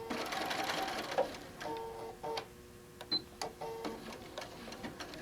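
A sewing machine stitching down a placemat made from a fabric panel, running in short bursts of rapid mechanical whirring with brief pauses and clicks between, close up.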